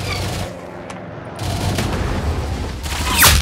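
Video game gunfire ending in a headshot: a sharp crack near the start, then a rumbling burst of shots and booms building toward a loud final blast, with no talk over it.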